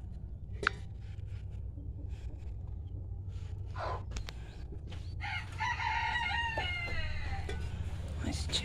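Chickens in a farm coop clucking, with a rooster crowing loudly partway through, nearby over a steady low background rumble and occasional clicks.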